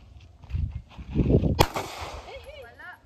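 A single sharp gunshot cracks loudly midway at an outdoor firing session in Capayang, Mogpog, Marinduque, preceded by low rumbling voices and followed by a ringing tail and faint chirpy sounds.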